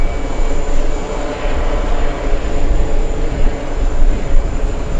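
A British Airways airliner from Heathrow on final approach at JFK gives a loud, steady broadband jet roar, close and continuous, swelling slightly toward the end with no talk over it.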